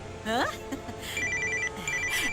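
A telephone rings in a home, with a bright, repeating electronic ring tone under and between a woman's speech.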